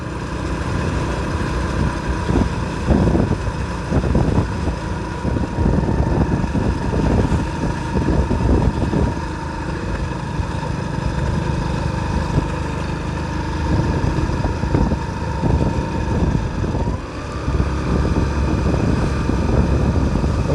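Motorcycle ridden up the hill road to Kodaikanal, a loud steady engine drone with wind rush carrying on without a break, the pitch shifting slightly now and then, no voices.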